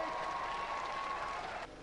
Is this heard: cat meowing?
no